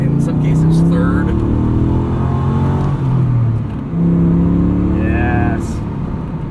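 A 2004 Pontiac GTO pulls hard under acceleration while driving, its engine drone rising and holding steady from inside the cabin, with someone talking over it throughout.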